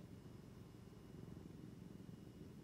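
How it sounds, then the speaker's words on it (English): A cat's soft, continuous low purr rumbling steadily and close, with no other sounds. "You purring for your friends?"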